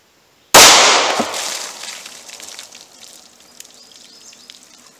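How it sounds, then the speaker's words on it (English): A single very loud, close 9mm +P Remington Golden Saber pistol shot fired into a ballistic box, a sharp crack with a long ringing decay into faint background noise, with no talking. "Alright, 9mm plus P Golden Saber. Let's see what we get through the ballistic box."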